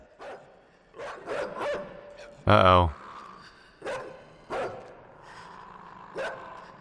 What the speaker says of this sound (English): Those growling sounds are horrible.